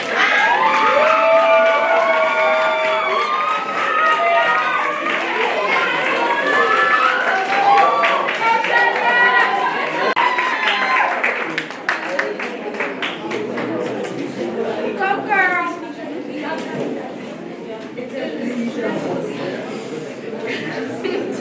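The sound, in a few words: applause and cheering for candidates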